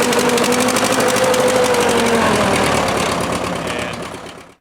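A Case DC tractor engine runs loud and steady nearby, with an uneven, slightly rough chug from a carburetor that is acting up, then fades toward the end.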